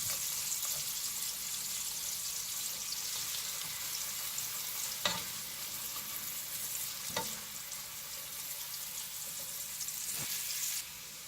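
Food fries steadily in a pan with a broad, continuous sizzle, and several sharp scrapes of a utensil along the pan bottom cut through it; no one speaks.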